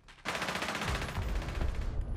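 Rapid automatic gunfire rattles in a long, sustained burst, loud and close, with a voice briefly audible underneath.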